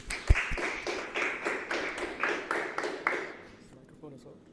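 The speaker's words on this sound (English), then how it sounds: "Let's give him a round of applause." Brief round of clapping from a small audience for a presenter at a talk on decentralized science, a few distinct claps at first settling into steady applause that fades out toward the end.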